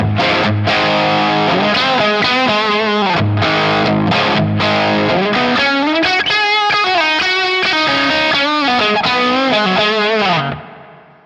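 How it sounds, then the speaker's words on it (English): Electric guitar played through a NUX Amp Core Studio on a dirty Vox-style distortion tone, loud sustained chords and riffs ringing out alone before fading at the end. "I think it's fair to say it takes distortion pretty well."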